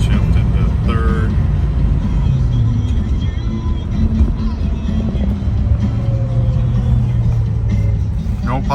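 A 1969 Chevrolet Chevelle SS engine pulls steadily after a downshift into third, a loud, continuous rumble heard from inside the car while driving.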